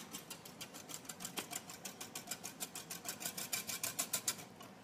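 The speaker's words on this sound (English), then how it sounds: "So yeah, give that a good whisk." A fork whisks pancake batter in a bowl, giving quick, rhythmic tapping clicks against the sides that speed up slightly and grow louder toward the end, faint and close with no talk.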